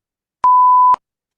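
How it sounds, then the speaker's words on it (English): A single clear electronic beep, a steady half-second tone in silence. "Please prepare your answer after the beep."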